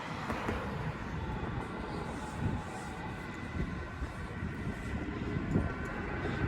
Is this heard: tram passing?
yes